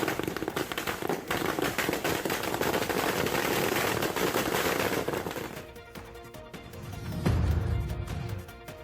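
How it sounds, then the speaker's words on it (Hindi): A long string of firecrackers bursts in a rapid, dense rattle for several seconds, then thins to scattered pops and a final low boom, loud and outdoors. "इन लोगों ने पटाखे की एक लंबी सी लड़ी ली,"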